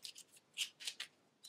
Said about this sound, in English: And we're going to shuffle these all together.